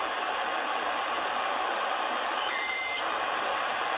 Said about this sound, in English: the Northwood weather fax from the UK, which is broadcasting here with weather broadcast images and